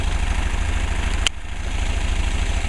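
A Mercedes 190c engine with a freshly adjusted carburetor idles steadily on a test, giving a loud low rhythmic chug throughout, with one brief sharp click partway through.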